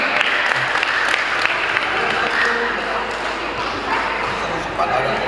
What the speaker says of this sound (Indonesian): Ayo sekali lagi tepuk tangan ya.